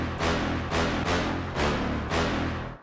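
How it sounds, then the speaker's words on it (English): Five punchy brass stabs from a dancefloor drum and bass sample pack hit in a regular rhythm, each a loud, bright, full chord with a short decay. "Obviously, I had to include the brass step."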